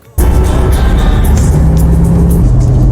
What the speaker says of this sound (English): some ambient noise of sort of cars moving around and stuff like that